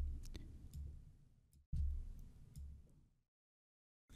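Laptop keyboard clicks from pressing the F4 key in a word processor: a few sharp, close taps in quick clusters, separated by short pauses and a stretch of near silence.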